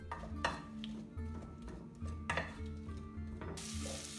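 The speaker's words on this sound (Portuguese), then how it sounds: "E primeiramente vamos colocar a cebola. Vamos deixar refogar um pouco." Onion sautés quietly in a pan for a Rohan-style stew, with a soft steady sizzle and occasional stirring scrapes and clatter, faint and close, with no talking.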